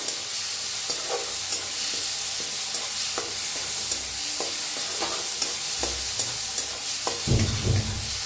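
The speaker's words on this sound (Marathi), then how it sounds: "आता याला भाजून घेऊया" Cumin seeds roasting in a pan for bread pakoda make a steady dry sizzle, with occasional close stirring clicks and scrapes against the pan, fairly quiet and continuous throughout.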